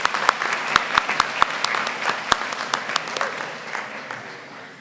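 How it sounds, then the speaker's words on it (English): Audience applause at an Algonquin College convocation on the Perth campus, a steady, dense wash of clapping from a sizable crowd with a few sharper individual claps standing out, sustained throughout. "Let's give her a round of applause."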